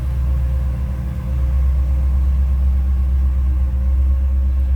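A 1966 Chevrolet C10 pickup's 327 V8 idling steadily, a deep, even low rumble heard close and alone throughout.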